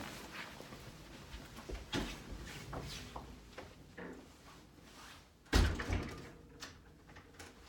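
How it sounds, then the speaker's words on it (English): A front door is blown open by strong wind, giving a sudden loud bang partway through over a background of wind and indoor noise. "The wind is so crazy outside. Just blew my front door open."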